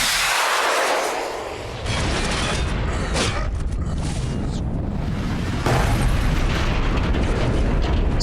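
Missiles launching through the gate in a Stargate video game, loud continuous rumbling blasts and booming explosions rolling over each other without pause, dense and close, with no speech.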